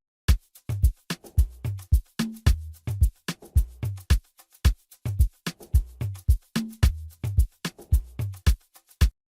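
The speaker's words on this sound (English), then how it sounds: "and then coupled with another tom sound from our AFROBANG pack," Amapiano drum groove built with a tom sample from the AFROBANG pack alongside a loop element: deep, pitched tom thumps and sharp percussive hits in a steady, syncopated looping pattern, close and punchy, with no voices.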